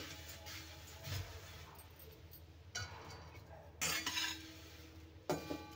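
Roasted thin poha being taken out of a pan, with a few separate metallic scrapes and clinks spread out over several seconds, quiet and close, with near silence between them.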